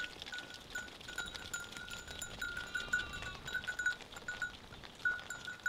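A flock of sheep grazing on open plain land in the Paris region bleats softly in the distance, with small bells tinkling intermittently.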